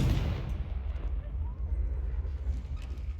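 The Confringo fire-blast spell goes off in Hogwarts Legacy, a loud explosive burst at the very start that trails into a heavy low rumble and crackling decay lasting a few seconds.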